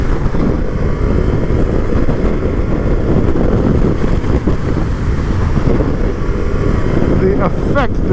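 A Ducati Multistrada V4 S motorcycle is ridden hard, its engine roar blended with heavy wind rush that stays loud and steady throughout, while a rider's voice is heard over it.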